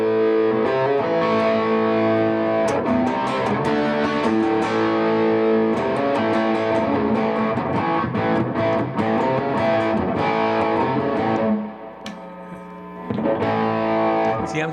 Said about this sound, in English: drive us right into distortion and feedback.